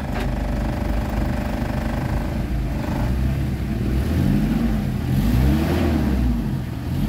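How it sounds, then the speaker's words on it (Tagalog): Mitsubishi Adventure engine, down on power, revved continuously under load, a loud close mid-pitched roar that rises and falls in pitch with the throttle, with no voices. "Pakiramdaman nyo yung galit ng makina."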